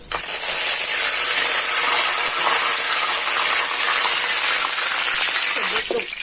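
Washed curry leaves hitting hot oil for aloo bhujia, a loud, dense, continuous sizzle and spatter heard close and steady throughout, with no voices.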